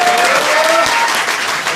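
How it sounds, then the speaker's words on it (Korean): Audience at a national debate forum on election fraud giving loud, dense applause throughout, close and full, with faint voices underneath. "부정선거 국민 대토론회를 이끌 우리 일금숙 박사님께 격려와 응원의 박수 부탁드립니다"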